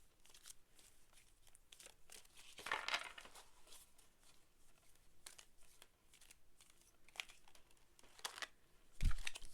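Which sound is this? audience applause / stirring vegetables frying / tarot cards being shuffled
tarot cards being shuffled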